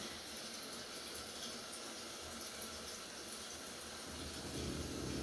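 Water runs steadily into a newly installed toilet tank as it fills, a continuous broadband rush that holds even and close throughout, with no voices.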